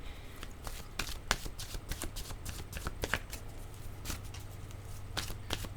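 Tarot cards are shuffled and drawn in a run of quick, quiet riffling flicks and taps, close and soft, with no talking.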